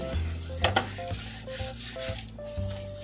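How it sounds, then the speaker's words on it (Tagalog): Hands rubbing a whole milkfish with salt, a soft gritty scrubbing with quiet wet knocks against a bowl, fairly faint and steady over a low hum, with no one talking. "Nilalamas ko po muna ng asin bago ko siya hugasan."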